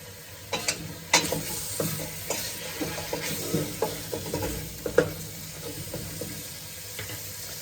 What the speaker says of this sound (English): While the meat's browning